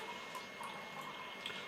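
Beer pours at full flow from a Beer Monster home draught beer machine into a glass, a quiet steady liquid stream with small splashy drips and no talking.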